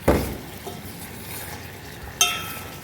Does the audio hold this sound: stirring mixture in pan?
yes